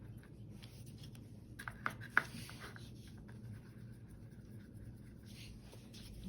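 A paintbrush strokes across paper while painting Monet-style water lilies in blue, giving soft quiet brushing with a few sharper taps, close and alone.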